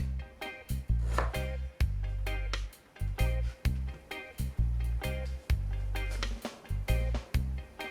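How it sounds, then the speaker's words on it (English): A knife chops potatoes into big, thick pieces on a board, with sharp, rhythmic knocks repeating close by at an uneven pace, each cut landing with a dull woody thud. "Now we prepare our potatoes. We cut it big,"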